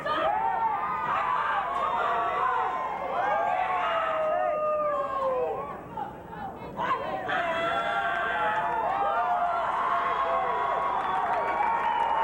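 Crowd cheering and applauding a young woman's traditional Okinawan bo weapons form at a 1998 US Open martial arts night of champions, a dense sustained roar of voices with a brief dip midway, then swelling again loudly.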